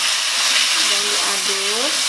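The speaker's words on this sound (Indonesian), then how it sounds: "Setelah bumbunya matang seperti ini, kita masukkan ayamnya teman-teman ya." Continuous loud sizzle of chicken frying in cooked spice paste in a pan, with faint background voice tones beneath the hiss.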